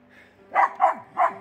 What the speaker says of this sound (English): She's barking up here.